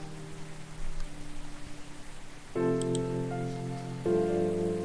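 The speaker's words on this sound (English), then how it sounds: "The ambient sound is of rain." Steady rain ambience in the video game Coffee Talk, a soft constant patter beneath sustained musical tones that shift and swell partway through.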